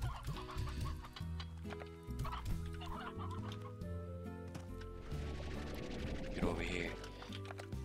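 Stony hens from the Slime Rancher video game cluck repeatedly over looping game music, short bursts of clucking scattered across the scene at moderate loudness.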